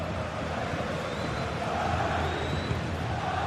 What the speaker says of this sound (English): the crowd is certainly trying to motivate the team to push them forward to get the equaliser